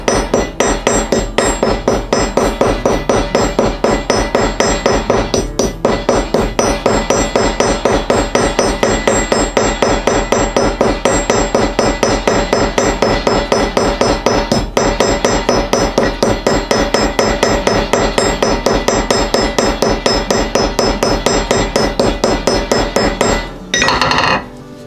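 Rapid, steady hammer taps ring out as a rivet on a leather sheath for a Hudson Bay axe is peened over, loud and close, continuing unbroken before stopping near the end.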